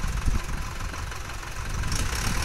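A Mahindra 575 tractor engine runs while stuck in mud, giving a steady rough diesel chug with knocking low rumble throughout, fairly close and with no voices over it.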